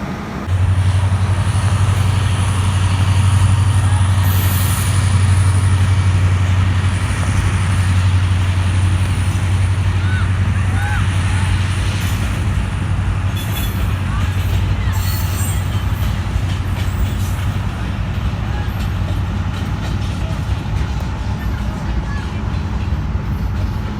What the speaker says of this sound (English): This train right now arrival here